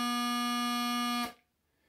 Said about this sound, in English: And blow in your chanter. You should get a nice low sound like this.